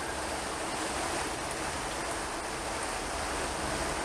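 Steady broadband water noise, like continuous trickling and dripping runoff close by, as water drips from a joint of a tonneau cover on a Chevy Avalanche truck bed; no distinct individual drops and no voices.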